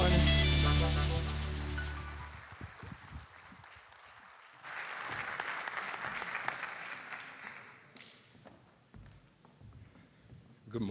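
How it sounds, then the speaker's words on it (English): A church congregation claps their hands at a morning Crown Forum gathering, the clapping rising after loud music fades, then thinning out and trailing off. "If you believe it, clap your hands this morning."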